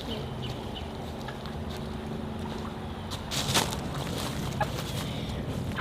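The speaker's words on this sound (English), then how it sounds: "You can kind of hear our chickens already." Backyard chickens clucking faintly in the background over a steady outdoor rumble, with a brief louder burst partway through.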